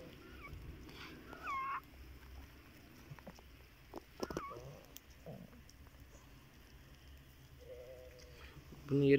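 Sheep bleat several times at a moderate distance, scattered calls over a quiet outdoor background with occasional rustling.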